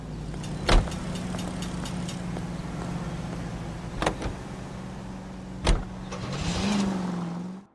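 Car in the L.A. Noire video game with a low steady engine hum throughout, broken by a few sharp clicks or thuds and a rising whine near the end, close and moderate in level.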